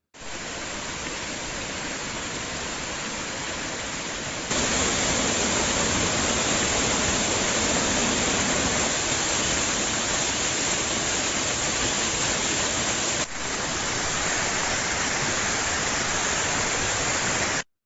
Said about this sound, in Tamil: உடுமலை திருமூர்த்தி மலை பஞ்சலிங்க அருவியில் ஆர்ப்பரித்து கொட்டும் தண்ணீரால்